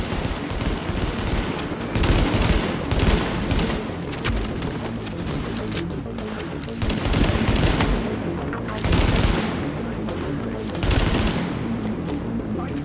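Sustained automatic gunfire from The Division, with bursts of rapid shots rolling on through the whole stretch, loud and dense, swelling in heavier volleys every couple of seconds.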